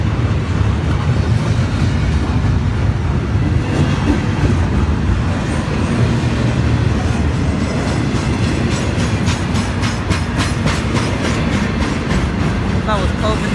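An intermodal freight train passes in Saint Bernard, Ohio, filling the clip with a loud, continuous rumble and rolling wheel clatter, with rhythmic clicking toward the end.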